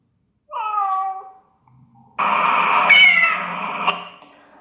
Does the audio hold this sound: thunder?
no